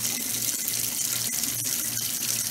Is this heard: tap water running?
yes